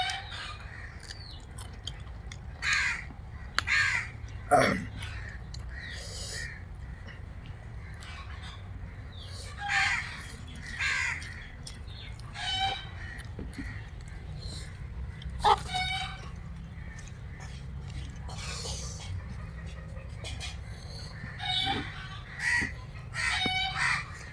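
Chickens cluck and call in scattered bursts, with occasional louder squawks, over a quiet outdoor background and some faint voices.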